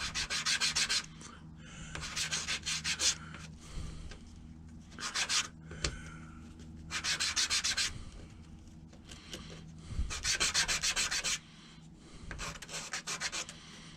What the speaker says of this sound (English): So I'm just using this sandpaper I got taped onto the table here.